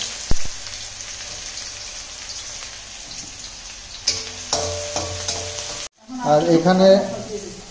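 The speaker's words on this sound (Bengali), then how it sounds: "তেল গরম হয়ে গেছে, দিয়ে দিলাম পেঁয়াজ" Chopped onions dropped into hot oil in a home kitchen while cooking a jackfruit curry, giving a sudden loud hiss and crackle that swells near the end after a stretch of quieter kitchen noise and talk.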